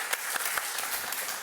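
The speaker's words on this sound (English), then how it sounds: "that does deserve an applause" Audience applause after a talk at a crypto conference, moderately loud steady clapping with a few sharper individual claps standing out.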